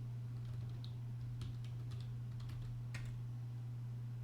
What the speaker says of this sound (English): Just start typing in words and see what happens